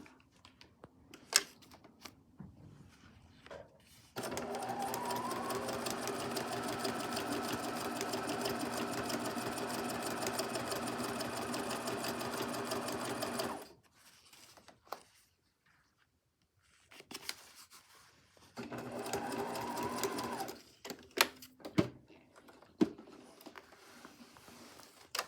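A sewing machine stitches fabric for a table runner in a long, steady buzzing run of about nine seconds, then a shorter burst after a pause. Quiet handling clicks and rustles of fabric fall between the runs.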